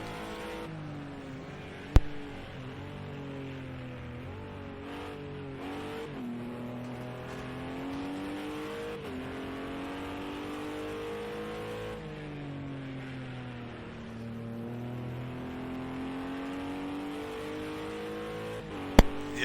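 Onboard race car engine during a lap of Laguna Seca in an IMSA Michelin Pilot Challenge GT4 or touring car race, a steady loud drone rising and falling through gear changes, with a couple of sharp clicks near the start and end.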